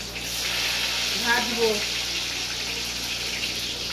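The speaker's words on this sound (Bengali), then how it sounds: "মুলো তেল গরম হয়ে গেছে আমি মুলোগুলো ভেজে নিচ্ছি ভালো করে লাল লাল করে" Radish pieces fry in hot oil with a bright, continuous sizzling hiss near at hand, and a brief voice rises over it for a moment before the frying carries on alone.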